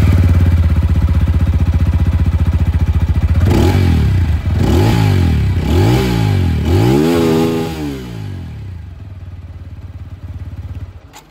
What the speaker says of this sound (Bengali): এবার নতুন বাইকটার থেকে যে এক্সস্ট সাউন্ড,